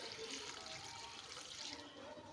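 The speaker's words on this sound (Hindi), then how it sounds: "इसके अंदर हम 1 जग पानी का डालेंगे" A jug of water pours steadily onto chopped mustard greens and spinach in a pot for sarson ka saag, a soft continuous splashing rush, quiet and close with no talk over it.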